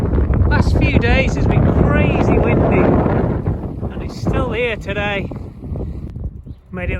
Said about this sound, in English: but it's blowing a gale. Jeez, it's so windy.